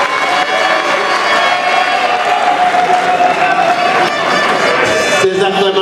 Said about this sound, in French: Ces acclamations-là ne sont pas dignes